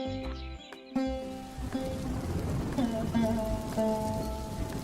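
Rain falls during a storm in an animated Hindi story, a steady patter on surfaces that sets in after a second and continues under soft background sounds, with speech in the scene.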